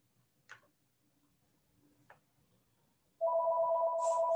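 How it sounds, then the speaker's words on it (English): A telephone rings in the background of a poetry reading, a steady electronic ringing tone that starts suddenly after a couple of faint clicks and continues loudly to the end. "if you can hear the phone"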